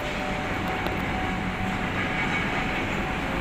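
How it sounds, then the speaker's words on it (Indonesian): A train rumbles past close by on the rail line running beside a stadium's sheet-metal perimeter fence, a steady broad roar with faint wheel clatter, no talking. "Ini kebetulan ada kereta lewat."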